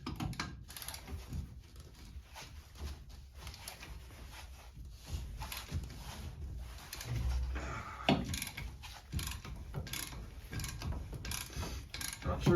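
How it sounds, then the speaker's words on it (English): A hand ratchet tool works a stubborn wheel nut loose on a bus, giving steady mechanical clicking and grinding across the clip over a low background rumble, fairly close and moderately loud. "So I'm going to use just my ratchet tool"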